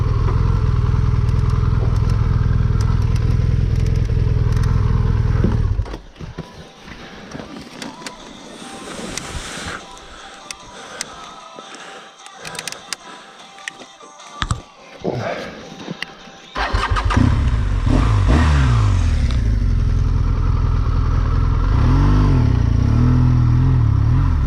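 A fully loaded BMW GS adventure motorcycle riding off-road, the engine loud and close, dropping to a quieter stretch of wind and clatter midway before the engine roars back.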